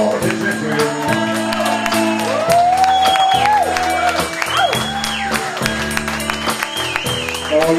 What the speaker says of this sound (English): Make some noise, give a round of applause, Mr. Walls.